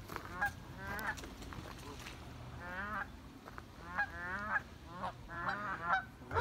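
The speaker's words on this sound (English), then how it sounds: "Look at all the geese." A flock of geese honking repeatedly in bursts, fairly close, over a low background rumble, with no talking.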